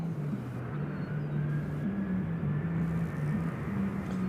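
A jet airliner taking off at Nashville International Airport, heard as a steady, fairly distant broadband roar with a low droning hum holding throughout, no voices over it.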